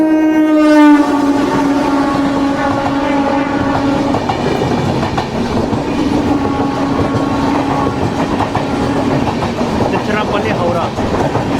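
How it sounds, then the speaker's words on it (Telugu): The Prashanti Express pulls into platform 3 at Srikakulam Road station, opening with a loud, drawn-out horn blast before the heavy rumble and clatter of passing wagons fill the rest, close and continuous. "శ్రీకాకుళం రోడ్డుకి మన ట్రైన్ ప్లాట్ఫామ్ 3కి అయితే వచ్చింది"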